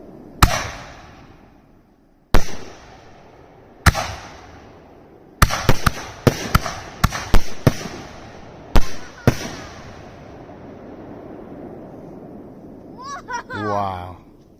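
Nishiki Blast canister firework shells burst outdoors as loud, sharp booms, some single and others in quick clusters, each followed by a crackling tail, before a person speaks near the end.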